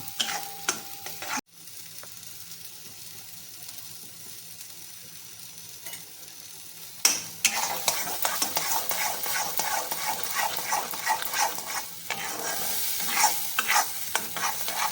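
Shrimp frying in oil with onion and garlic, a low continuous sizzle with quiet stretches, then louder scraping and clattering strokes as a spoon stirs the pan, no voices.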